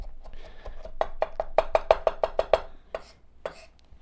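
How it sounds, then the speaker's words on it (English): A knife rocks down through an onion on a cutting board, chopping it finely in a quick run of about ten crisp, evenly spaced close taps that build and then fade, with no talk. "you can actually use the knife as a rocking mechanism to come down and cut your fine onion"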